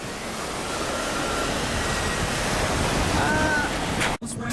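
Rough ocean surf and strong wind during Typhoon No. 6 on the Kochi coast near Katsurahama, heard as a continuous loud roaring wash with gusty microphone buffeting and a brief voice near the end.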